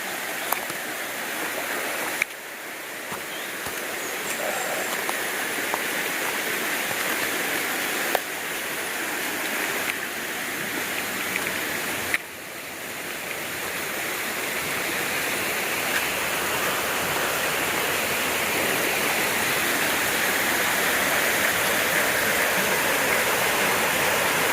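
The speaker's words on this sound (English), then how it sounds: "river crossing" Steady rushing river water at a rainforest river crossing, a broad continuous wash of flow that holds at an even level throughout with no voices over it.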